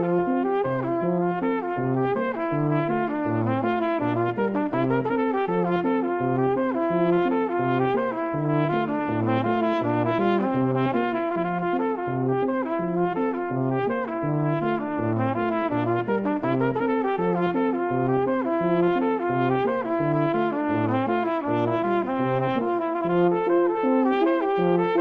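Brass duet of Couperin's Les Barricades Mystérieuses arranged for trumpet and tuba, a low tuba bass line under a flowing trumpet melody, steady and continuous throughout at an even, moderate loudness.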